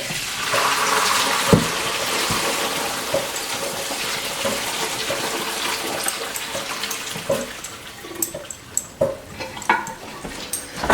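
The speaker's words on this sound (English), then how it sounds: "So I'm going to pour the rest of this broth through here." Turkey-carcass broth is poured through a strainer, a splashing, trickling stream with scattered clinks and knocks, louder at first and growing more sporadic toward the end, with no talking.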